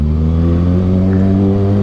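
A Suzuki Raider 150 motorcycle engine drones loud and close, a steady low-pitched hum with layered harmonics that holds an even rev throughout.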